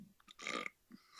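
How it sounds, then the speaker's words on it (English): A person burps during a wait before a live-stream call: two or three short, close belching bursts, the middle one longest and loudest, set against a quiet room with no talk. "I'm burping like crazy over here while I wait"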